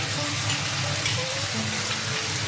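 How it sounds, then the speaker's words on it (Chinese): Sauce reducing over high heat in a wok of stir-fried pork with onion, carrot, potato and diced cucumber: a steady, fairly loud bubbling sizzle that holds without break. "用大火把汤汁收浓，最后加进黄瓜丁"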